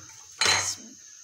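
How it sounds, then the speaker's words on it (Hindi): A single short metallic clank, like a pressure cooker lid being set and closed while cooking mutton, near and brief amid quiet. "अब कुकर बंद कर देते हैं"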